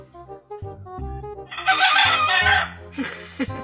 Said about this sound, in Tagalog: Nag-record may manok.